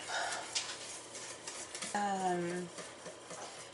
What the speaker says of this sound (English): Whisk that shit up.